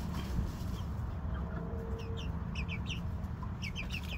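A hen with her chicks clucks in a farmyard, with soft chick peeps scattered throughout over a steady, noisy background.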